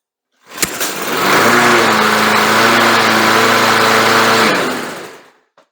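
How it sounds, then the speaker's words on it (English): Small lawn mower engine pulled into life after a carburetor fix: a sharp start, then a loud steady droning run for several seconds before cutting off abruptly, heard close with no talk. "That mower ran really good, but she just didn't start really good."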